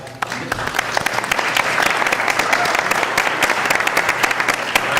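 An audience at a school board meeting applauds loudly and steadily as orchestra members are recognized, a dense wash of clapping that continues throughout.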